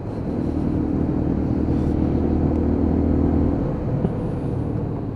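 A Lexmoto Assault 125 motorcycle engine drones steadily while riding, a loud continuous low hum with wind rush throughout.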